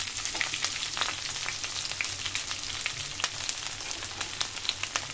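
Chunks of raw jackfruit fry in mustard oil in a pan, a continuous soft sizzle broken by scattered crackles and pops as a spoon stirs them, close and fairly quiet, with no talking.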